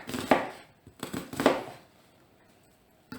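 A knife cuts vegetables into small squares on a board for frying with onion, giving a few sharp separate chops followed by quiet.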